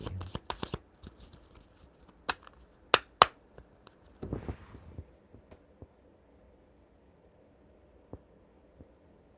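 Tarot cards are shuffled over and over, with crisp riffles and sharp slaps in quick bursts up front, then thinning to scattered quiet taps with near-silent gaps between.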